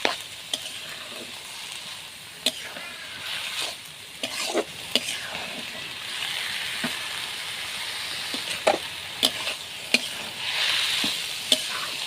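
Ash gourd fried with kalonji and turmeric in a pan sizzles steadily while a spatula scrapes and stirs in irregular sharp clicks and knocks over the continuous hiss.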